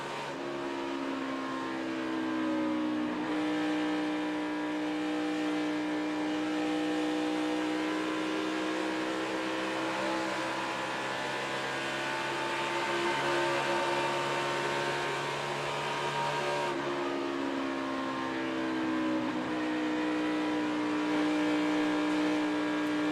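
NASCAR Sprint Cup race car engines at Texas Motor Speedway during the Duck Commander 500 drone at high revs, a steady sustained whine with pitch shifts as cars pass, heard from a distance under a constant hum.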